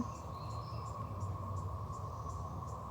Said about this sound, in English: that is the attack of the cicadas